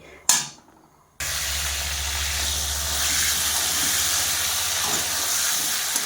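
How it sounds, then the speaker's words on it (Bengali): Potatoes drop into hot oil in a home kitchen, a brief splash followed by a loud, steady, close hiss of frying that continues without a break. "এই যে বসিয়ে দিয়েছি আলু ভাজতে"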